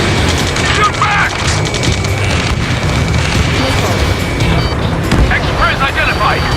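Explosions and bursts of gunfire rumble through a battle in the Ace Combat 7 video game, dense and loud, while voices shout over the combat.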